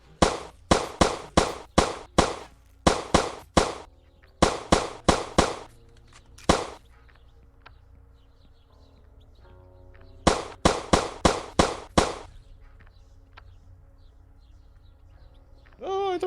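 Rapid bursts of video game gunfire crack out in tight volleys, several clusters of sharp shots separated by brief pauses and a quieter stretch in the middle, loud and close.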